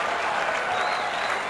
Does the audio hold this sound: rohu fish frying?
no